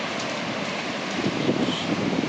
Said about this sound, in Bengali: বাইরে দেখি প্রচুর বৃষ্টি হচ্ছে